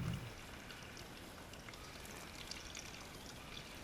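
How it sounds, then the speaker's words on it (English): Coolant pours steadily from the radiator of a 2011 Kawasaki Ninja 250 into a drain pan, a constant close liquid splash and gush that runs the whole time with no speech. "The slightest lift of the radiator cap causes the fluid to shoot out uncontrollably."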